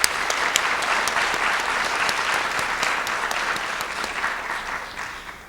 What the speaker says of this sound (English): let's give all of the participants another warm applause to thank them for sharing today